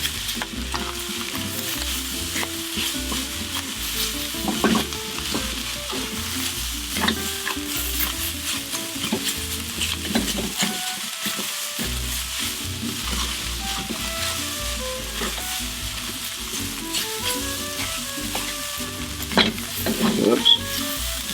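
Green onion and egg stir-frying in sesame oil with garlic, with a steady loud sizzle and the clatter of a spatula scraping the pan throughout.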